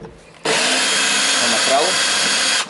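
A cordless drill with a worn-out battery, used during a classic Mini build, whirs steadily at close range for about two seconds, then stops abruptly.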